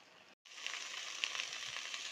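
Dried fish curry with potato and aubergine sizzles steadily in a pan, a close, bright frying hiss with small crackles and pops, briefly cut by a short gap near the start, no voices.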